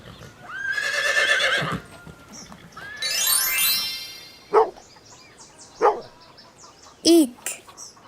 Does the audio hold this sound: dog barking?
yes